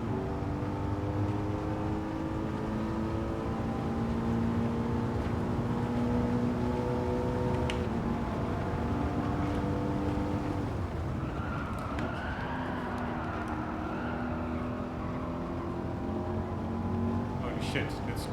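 Racing car engine in Gran Turismo 7, a steady droning roar with rising and falling harmonic pitch as the car accelerates and shifts, loud and continuous throughout, with a brief screech of tyres partway through.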